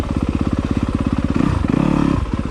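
Dirt bike on a rocky singletrack trail chugs with a loud, close, pulsing low engine beat that quickens into a brief rev before settling.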